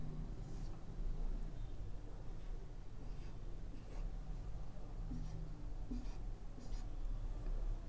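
Pen or marker sketching a rough labelled diagram of a neuromuscular junction by hand, a steady run of scratchy strokes in short bursts, close and fairly loud over a constant low background hum.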